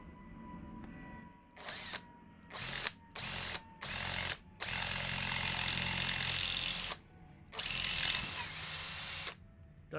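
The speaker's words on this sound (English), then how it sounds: "We can just correct it with the drill." Power drill enlarging an off-centre rivet hole in a carbon fibre motorcycle exhaust on a KTM Duke, whirring in several short bursts, then a longer steady run, close and fairly loud.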